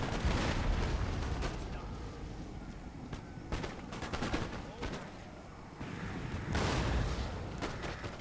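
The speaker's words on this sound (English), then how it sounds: "Those canister shots are just brutalizing them." Cannons fire canister shot in a Napoleonic-era Empire: Total War battle, with repeated booming blasts and crackling volleys over a dense battle din, while a voice talks over it.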